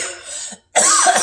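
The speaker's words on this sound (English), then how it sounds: "I cough a lot." A person coughs in two bursts, a shorter rasping one followed by a brief silence and then a louder, longer throaty cough, close and alone with no talk.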